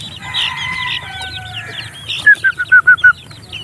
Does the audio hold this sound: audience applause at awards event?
no